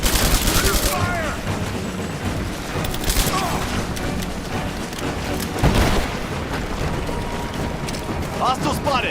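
Dense, continuous gunfire and booming blasts in a firefight from the action game Rise of the Tomb Raider, with a heavy rumbling wash of shots and shouting voices mixed into the battle.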